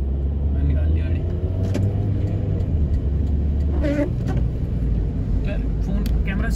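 A car pulls out of a parking spot with a steady low engine rumble throughout. Someone talks over it.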